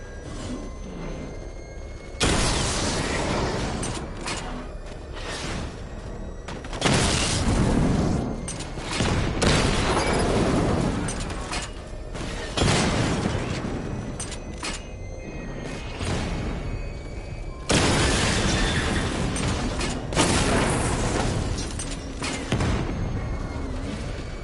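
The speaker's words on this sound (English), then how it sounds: "Charge up missile barrage to level 2 and destroy 4 active targets to complete diagnostic test." Missile barrage explosions from the Batman: Arkham Knight video game hit in repeated heavy booming bursts, separated by quieter mechanical whirs and whooshes, loud and close.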